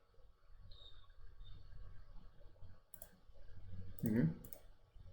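Sparse computer mouse clicks while working in ETABS structural software, a few soft single clicks and a brief cluster near the end, over faint room noise.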